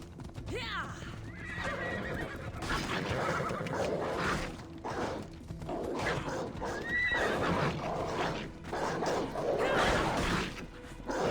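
A horse whinnies loudly early on and neighs again later, over hoof clip-clop and busy background commotion, with some voices in the mix.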